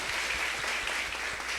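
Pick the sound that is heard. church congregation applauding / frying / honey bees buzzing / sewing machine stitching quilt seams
church congregation applauding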